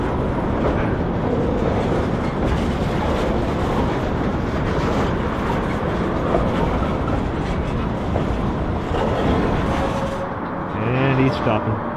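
A train being pushed backwards by a locomotive consist that includes a City Rail engine, rumbling steadily and fairly loud throughout, then easing and squealing faintly as it comes to a stop near the end.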